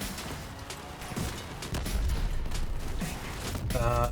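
Vehicle-mounted guns firing at turrets in the combat game Crossout on snowy ground, a string of repeated shots and clanking mechanical noise that grows louder partway through, ending in a short tonal buzz.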